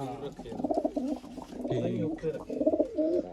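Pigeons coo in soft, repeated throaty calls, close by, mixed with murmuring voices and general background bustle.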